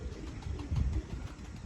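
Soft, low cooing of pigeons comes in gentle repeated pulses close by, with a faint background hum.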